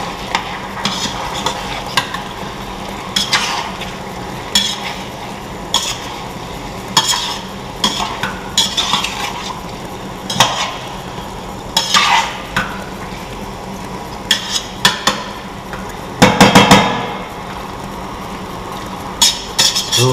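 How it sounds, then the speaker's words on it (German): A spoon stirs a Hungarian paprika chicken stew of corn-fed chicken, paprika and tomato in a pot, scraping and knocking in irregular bursts over a steady low simmering sizzle, close and fairly loud, with a heavier clatter near the end. "Und nochmal umrühren"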